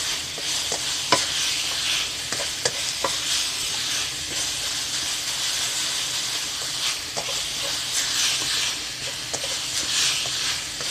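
Minced pork stir-fries with holy basil in a hot pan, a steady loud sizzle with intermittent scraping and clinking strokes of a spatula; no talking.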